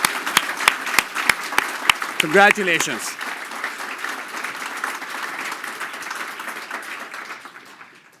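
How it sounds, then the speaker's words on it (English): Forum attendees applaud grant recipients, a few sharp individual claps first, then a brief spoken word over the room before full applause swells and slowly fades out. "Please join me in giving a round of applause to all the grant recipients today."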